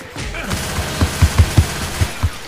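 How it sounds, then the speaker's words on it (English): Rapid gunfire in the zombie shooter Left 4 Dead 2 as a character shoots at a wall, a burst of about eight punchy, close shots in a quick, slightly uneven rhythm. "Lewis is shooting the wall."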